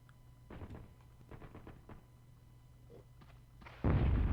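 Guided missile detonating in the Hogs of War video game: a sudden loud, dense blast near the end follows a stretch of quieter thuds and low hum, ending in a sustained roar.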